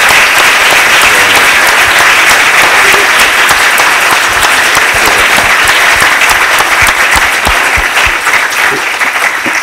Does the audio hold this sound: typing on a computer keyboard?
no